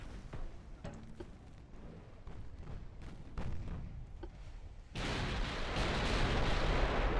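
14-inch naval guns firing in the naval battle game Ultimate Admiral: Dreadnoughts, a series of deep booming thuds, then a sustained loud roar of heavy gunfire near the end, no voices.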